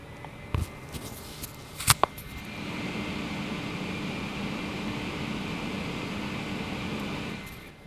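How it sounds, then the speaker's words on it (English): A Noctua CPU cooler fan spins up inside a Jonsbo N2 case after a few clicks at boot, then settles into a steady broadband whooshing hum, moderate and close, with no talking. "let's go ahead and boot it up, and we'll show you how loud the fan is"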